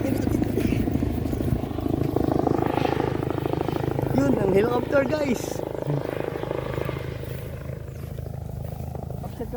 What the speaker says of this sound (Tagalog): ang helicopter guys